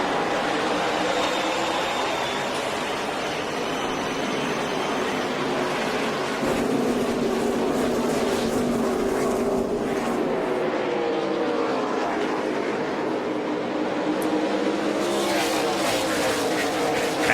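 NASCAR Nationwide Series race cars, the Food City 250 of 2010, roar as the field takes the green flag. A dense, loud, continuous engine blare rises and builds throughout, with crowd noise mixed in and no talk.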